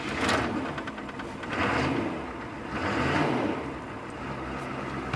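A Chevy truck's diesel engine, converted to run on vegetable oil, cranks and fires after its glow plugs warm, giving rhythmic surging bursts of broadband mechanical noise, fairly loud and close.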